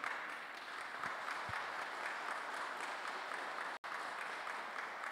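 A church congregation claps together in a service, a fairly quiet but continuous spread of many hands heard from a distance, briefly cut by a short dropout.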